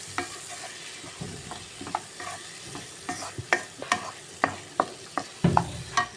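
Mushrooms fry in a pan while being mixed with turmeric powder, giving a soft continuous sizzle under irregular spatula scrapes and clacks that grow busier and louder toward the end, heard close with no voices.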